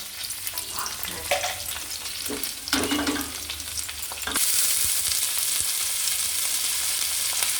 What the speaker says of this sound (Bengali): ঢাল ঢেলে কড়ার মধ্যে ভালো করে সবজিগুলো ঘি দিয়ে গরম করে এভাবে নাড়াবো